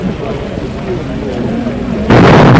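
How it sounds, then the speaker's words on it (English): A 14-inch coastal defense gun fires in 1935, a sudden loud, broad blast breaking in near the end after a stretch of rumbling background noise with a low hum. "Ten thousand people are watching Uncle Sam's biggest defense guns go into action."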